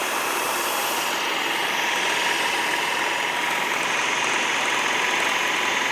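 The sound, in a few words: food processor pulsing basil for pesto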